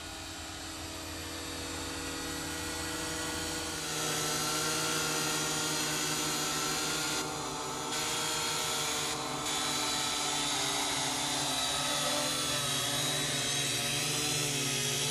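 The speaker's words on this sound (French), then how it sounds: "On va donc procéder à l'atterrissage immédiatement." A Syma X8W quadcopter drone hovers and sets down, its rotors giving a steady loud whine with a harmonic buzz that grows stronger after a few seconds, continuous with no talking.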